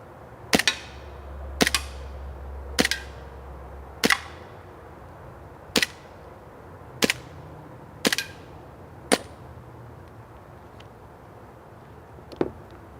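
A WE Warrior airsoft M1911 pistol fires eight sharp, evenly spaced cracks over about nine seconds, each followed by a short ring-out, with a quieter final shot after a pause, against a low steady hum.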